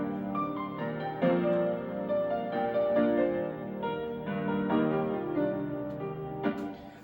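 A synth string pad and bass chords under a main melody line, blended in a slow, gentle arrangement of sustained chords and a higher tune on top, fairly quiet and without voices.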